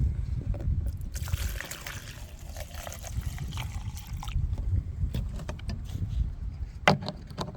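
White spirit is poured into a container for cleaning paint-covered brushes, a soft steady trickle and glug of liquid lasting several seconds, close and fairly quiet over a low background rumble.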